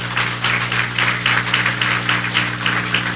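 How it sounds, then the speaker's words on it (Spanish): A church congregation claps during a Spanish-language sermon, rhythmic group clapping in steady pulses over a sustained low organ or keyboard drone. "Dale un aplauso al Señor."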